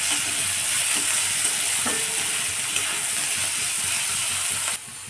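Flattened rice pulao with salt frying in a pan, a steady close sizzle with occasional scraping stirs, ending in a sudden drop to a quieter hiss.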